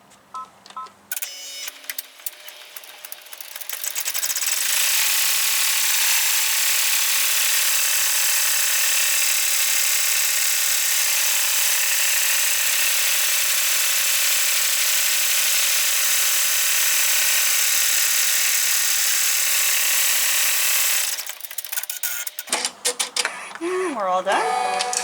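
An embroidery machine stitches the last step of an in-the-hoop vinyl mini composition book cover, a steady high-pitched mechanical whir running loud and unbroken for most of the clip, with brief handling noises at start and end.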